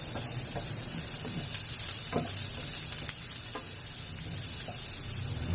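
Onion and garlic sautéing in a pan for a chicken and mushroom dish, a loud continuous sizzle with occasional stirring scrapes and taps throughout, no talking.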